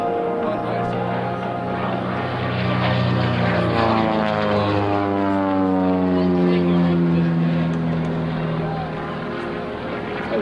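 An aerobatic propeller airplane flying a loop at a large outdoor international airshow, its engine droning loudly and steadily, the pitch sliding down and up as the aircraft passes through the maneuver.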